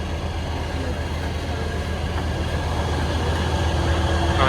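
Steady loud rumble of the KA Batara Kresna train at a station in Indonesia, a constant low drone and hiss, continuous throughout with no voices.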